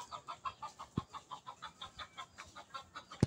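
Chickens cluck in a quick, steady series of soft calls close by, with a couple of dull thumps in between.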